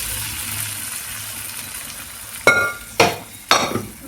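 Steady sizzling of spices frying in a pan, broken by three sharp clattering hits near the end, like a spoon knocking the pan.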